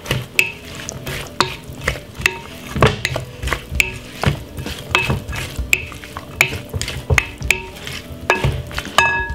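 King prawns being stirred with sweet chilli sauce, a utensil repeatedly scraping and knocking against a bowl or pan in an uneven rhythm, with wet, saucy stirring noises, close and clear with no talk.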